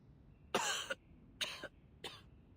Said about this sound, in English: now I cough and splutter just like it does